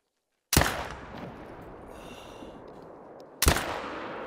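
Two sharp .308 rifle shots from an Olsson Model 23 in theHunter: Call of the Wild, each a loud crack followed by a long rolling echo, spaced about three seconds apart over near silence.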